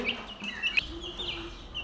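Close, soft clucking and murmuring calls from a few white Sultan chickens, continuous over a brief moment with a low background hum.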